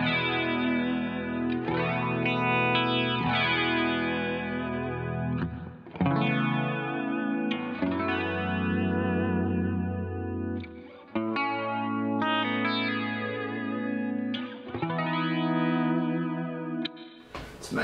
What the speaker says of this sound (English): Nowadays I'm just using the flanger side, but the chorus is fun too if you're into that.